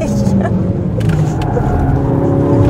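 Mercedes C 63 S E Performance all-wheel-drive car accelerating hard on the Ascari race track, a loud continuous engine roar and road noise filling the cabin throughout, with a voice talking over it.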